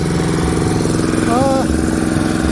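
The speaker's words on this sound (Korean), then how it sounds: "아, 시동 걸렸습니다." An old Daedong walk-behind power tiller engine, just started after four months of sitting, idles close by with a steady, loud, even chugging drone.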